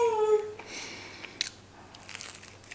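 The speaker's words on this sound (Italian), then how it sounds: "Il bordo rimane stracroccante, sentite." Crisp puff pastry with a crunchy edge is bitten and chewed up close, a few brittle crackling crunches followed by softer chewing, with a brief tone at the start.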